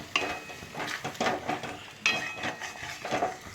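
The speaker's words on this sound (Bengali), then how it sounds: "মিষ্টি দইটা দিয়ে দিলাম এবার আমি একটু কষিয়ে নেব" Sweet yogurt being stirred into a potol (pointed gourd) curry in a pan, with a spoon scraping and clinking against the metal in repeated close strokes under a soft sizzle.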